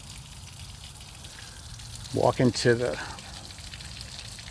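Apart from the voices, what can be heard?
water running at a boat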